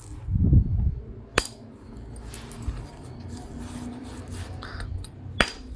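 Homemade black bottle glass struck while knapping flake runs, with two sharp clinking strikes a few seconds apart over a quiet background and faint scraping between them.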